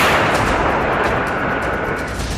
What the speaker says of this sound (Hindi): ये ऐसा धमाका है